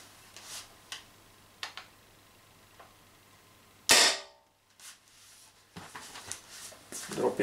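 A Tippmann Stormer Elite paintball marker running on 12 gram CO2 fires a single sharp, loud shot mid-clip, with faint ticks and clicks before it and a person speaking quietly in the background.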